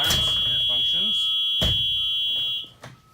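School bus emergency exit window alarm, a steady high-pitched electronic tone that holds for about two and a half seconds before cutting off, with clunks of the window mechanism and brief talk nearby.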